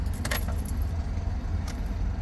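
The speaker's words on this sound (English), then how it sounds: "I'm gonna turn the key off." An ignition key turned and jangling on its ring in a 2009-or-later Ford E150 van, a few bright metallic clinks over a steady low vehicle rumble, close by.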